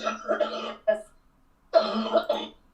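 A person coughs loudly into a microphone during an online community voice chat, two rough bursts separated by a short pause.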